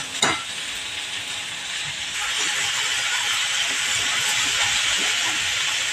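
Moth bean usal sautéing in a pan makes a loud, steady sizzle and hiss that swells after a sharp initial clink, continuing without voices.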